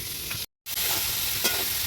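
Vegetables and shrimp sizzle and crackle steadily in a hot pan, broken by a brief dropout, with faint stirring scrapes.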